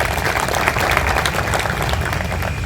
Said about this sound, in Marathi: त्याच्याबद्दल या सगळ्यांसाठी आपण टाळ्या झाल्या पाहिजे.